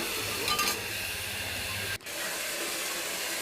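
Beetroot and beans for khichuri fry in a pan with a steady, close hiss and sizzle, stirred with a few light scrapes, cut by a sharp brief break halfway through.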